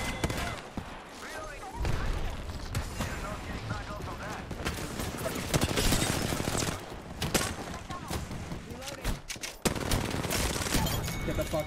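Rapid gunfire crackles through a shooter video game, with dense bursts and repeated shots over about eleven seconds while a player talks over the action.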